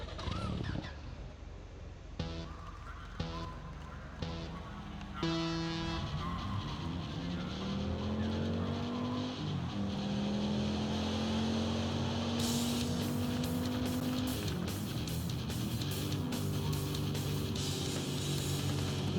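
Engines roar and whine through gear changes in a car race in the VR game Downtown Club on a Quest 3S, rising pitched revving with shifts, steady and loud, accompanied by rhythmic game sounds, with no voices.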